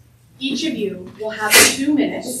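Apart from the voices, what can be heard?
sneeze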